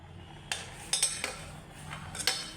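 A spoon stirs spice masala in a cooking pot, giving about half a dozen sharp metallic clinks and scrapes at uneven intervals, fairly quiet and close, with no talking.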